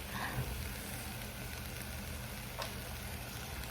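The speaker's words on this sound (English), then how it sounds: "So they've been sizzling for about 2 or 3 minutes." Pork chops sizzle in a pan with a steady, even hiss and faint crackle, close and moderately quiet, with no voices.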